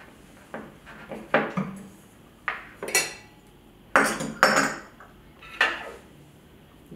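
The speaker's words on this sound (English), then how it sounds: "We're going to strain it and put into a new bottle." Homemade berry gin being strained through a metal strainer into a new bottle, with a series of clinks, taps and scrapes of metal and glass in irregular clusters, close and fairly clear, with no talking.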